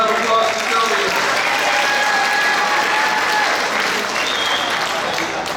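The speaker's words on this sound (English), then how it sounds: "Big round of applause for Sylvia." Sustained applause from a concert audience at a VFW post band event, steady and loud throughout with a dense crowd texture and some voices mixed in.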